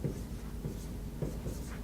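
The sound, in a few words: handwriting on a board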